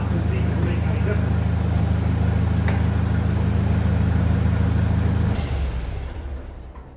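A 1957 Ferguson 35 TVO tractor engine runs steadily up close with a low, even idle throb, then cuts off near the end and fades away.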